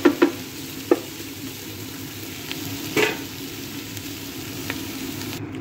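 Shrimp curry with tomato paste stirred in a hot pan, a steady close sizzle and frying hiss broken by a few sharp utensil scrapes and clinks against the pan.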